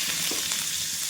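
Mustard seeds, cumin and curry leaves sizzle in hot oil in a kitchen pan, giving a steady close hiss with faint crackles throughout, with no voices.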